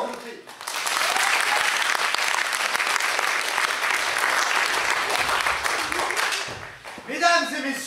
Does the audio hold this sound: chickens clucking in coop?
no